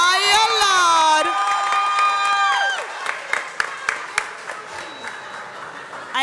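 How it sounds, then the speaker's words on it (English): A crowd at an NCBA 10th anniversary show bursts into loud applause, with cheering, whoops and children shouting over the clapping, which then thins into scattered claps. "Let's give them a bigger round of applause."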